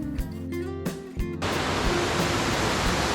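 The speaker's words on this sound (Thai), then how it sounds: "เป็นน้ำตกขนาดใหญ่ 8 ชั้น สูงประมาณ 30 เมตรนะครับ" A large eight-tier waterfall, about 30 metres high, in Phu Kradueng National Park, Thailand, gives a constant roaring rush of falling water. It starts abruptly after a short passage of tonal music and stays loud and even.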